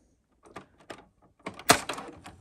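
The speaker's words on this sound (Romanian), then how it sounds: "Deschidem apoi această ușiță," Front door of a Canon MG4250 printer being opened, a few soft plastic clicks and taps building to one sharper knock, close and quiet.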